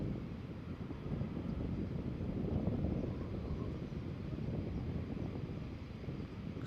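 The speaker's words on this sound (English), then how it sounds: "It is getting quite breezy here now." Wind blows at the RAF Coningsby airfield as a steady, low, rushing roar with buffeting rumble on the microphone, continuous and fairly loud throughout, with no talk.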